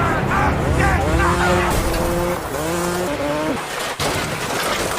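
Motorbike skidding and crashing into a pile of corpses in a zombie film, heard as a loud, continuous engine and tire-skid roar with rising and falling whines, a sharp thump near the end, and voices mixed in.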